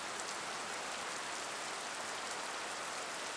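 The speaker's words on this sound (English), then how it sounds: "The long and gentle hiss of rainfall touching down." Steady, gentle rainfall from the video game Tsukihime makes a soft, even hiss of drops touching down, continuous and without voices.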